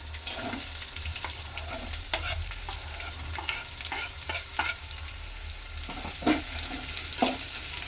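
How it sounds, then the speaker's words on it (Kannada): Onions and green chillies being stir-fried in a pan: a steady sizzle with scraping stirs repeating throughout, close and alone without any talk. "ಇವಾಗ ಈರುಳ್ಳಿ ಹಾಕೊಳ್ಳೋಣ"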